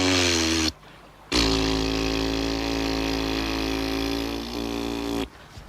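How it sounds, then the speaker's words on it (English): A timber didgeridoo drones in a deep, buzzing, steady tone, broken by a short pause for breath near the start and another at the end. "Now, to play the didgeridoo, you've got to do a sharp raspberry."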